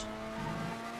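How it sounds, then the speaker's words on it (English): Tires skidding on an F1 car in a GTA Online race, a short steady engine drone with faint scrubbing squeal, one second long and without any talk. "You can hear him skidding out a little bit there"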